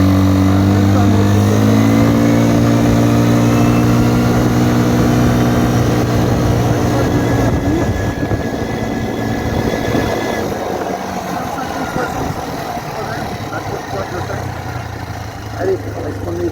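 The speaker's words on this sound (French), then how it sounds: "Je trouve que pour un petit quad comme ça, il se débrouille bien." A small Kymco MXU 150 quad's engine runs steadily, loud and close, its drone shifting pitch and easing slightly over the stretch as it keeps going.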